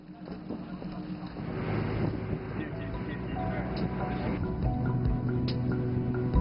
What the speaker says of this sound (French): nous allons être sur un bateau à moteur, donc il va faire encore plus froid